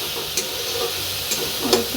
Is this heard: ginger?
yes